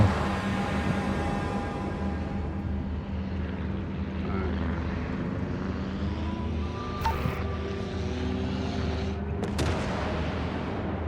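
Propeller aircraft flying overhead in the naval battle game World of Warships, a steady droning roar that fills the whole stretch, with sharp gunfire-like bangs cutting through near the end.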